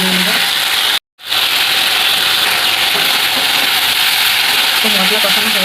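A spice masala fries hard in a pan, a loud, dense, continuous sizzle up close that cuts out for a moment before resuming, with faint voice-like sounds underneath.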